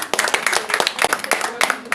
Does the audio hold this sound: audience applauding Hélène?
yes